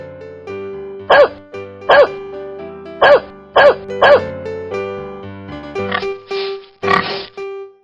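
A cartoon dog barks five times in quick, evenly spaced bursts over a bouncy children's music track, followed by a few different animal noises toward the end.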